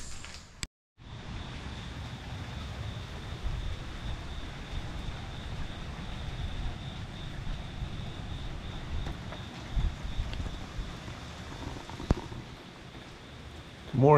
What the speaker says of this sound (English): It's raining a whole bunch.